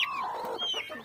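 A hen that has just hatched chicks from a clutch of eggs clucks and calls close by, a short run of bright, warbling notes with no talk.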